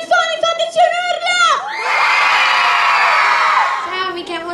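Young festival audience at the Giffoni Film Festival 2009 bursts into a loud, sustained collective shout and cheer after a host speaks, the roar swelling for about two seconds before fading back to voices.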